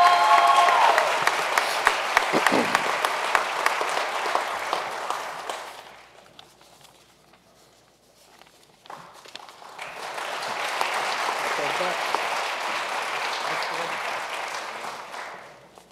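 Applause at a police academy graduation ceremony, rolling in two broad waves: a loud burst that fades to near quiet, then a second sustained round from a large crowd.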